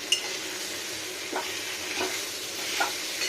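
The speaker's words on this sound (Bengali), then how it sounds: "ভালো করে মিশিয়ে নিই।" Vegetables coated with Kashmiri red chili powder, heading toward a peas and potato curry, are stirred in a frying pan: a loud, steady sizzle with a few soft spatula scrapes, close up and without speech.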